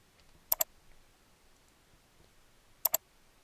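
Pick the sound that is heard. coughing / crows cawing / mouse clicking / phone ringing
mouse clicking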